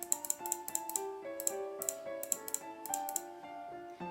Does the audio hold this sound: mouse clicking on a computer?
yes